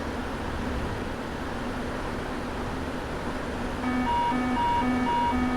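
A Boeing 777 overspeed warning sounding in a flight simulator, a steady repeating electronic tone that starts partway through and rings clearly over constant cockpit air noise.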